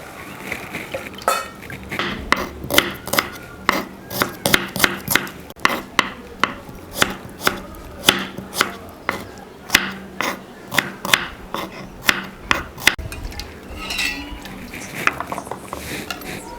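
A knife chops peeled shallots (small onions) on a board in a home kitchen, giving a steady run of crisp, close knocks in an even rhythm, pausing briefly toward the end.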